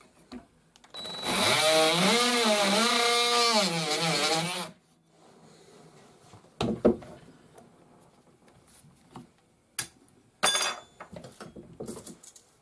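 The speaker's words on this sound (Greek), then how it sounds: "Έχω βάλει μια καβέλια εδώ. Ε, θα κόψω ό,τι περισσεύει." A Parkside PKGA 20-Li cordless multi-tool cuts off a wooden dowel with a loud, steady buzzing whine lasting a few seconds, then stops, followed by quieter scattered knocks and clicks.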